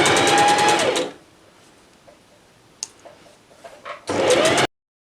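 A sewing machine stitches an invisible zipper in two loud, fast-whirring bursts, one at the start and one near the end, with quiet handling clicks in between.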